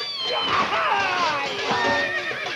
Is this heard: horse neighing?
yes